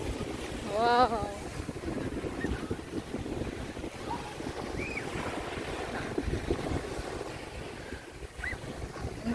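Sea waves and gusting wind on the beach at Skegness, a steady rushing wash with wind buffeting the microphone throughout, and a voice briefly calling out near the start.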